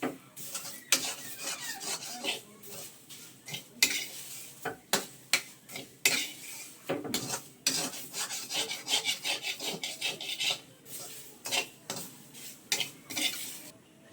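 Elephant foot yam sautéed in a dry pan, heard as repeated close scraping and rubbing strokes of a spatula against the pan with irregular rhythm and faint sizzle, no talking.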